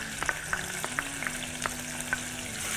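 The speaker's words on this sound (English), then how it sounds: "I love the sizzle." Onion frying in hot oil, a steady close sizzle with light scraping stir clicks at irregular intervals, no talking.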